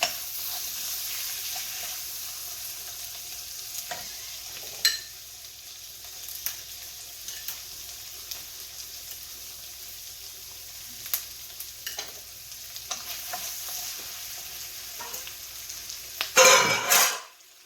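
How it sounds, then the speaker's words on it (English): Bok choy frying in a pan over lowered heat for a mushroom ravioli sauce: a steady sizzle runs throughout, with scattered scrapes and taps of a utensil stirring, then a sharp burst of louder clattering and hiss near the end. "Let me cook the bok choy a little bit."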